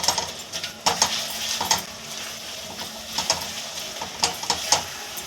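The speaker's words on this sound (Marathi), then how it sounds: "आता आपण ह्याच्यामध्ये दालचिनी, लवंग, काळे मिरी हे सुद्धा परतून घेत आहोत." Cinnamon, cloves and black pepper frying for prawn biryani, a soft steady sizzle close by, punctuated by bright metallic clinks and scrapes of a spoon against the pan at irregular intervals.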